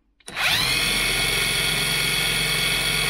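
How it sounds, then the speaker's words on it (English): An impact wrench spins a Lucas C40 dynamo from a Ford 3000 tractor, starting abruptly and then holding a steady, loud, close whine with a low hum beneath. "I've got my impact wrench. I'm just going to put it on there and spin it over"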